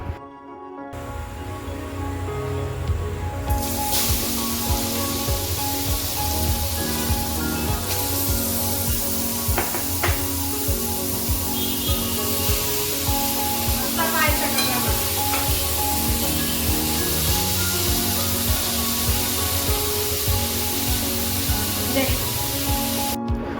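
Grated carrots frying in hot ghee in a kadai: loud, continuous sizzle with stirring and scraping, a constant hiss underneath; no talking heard.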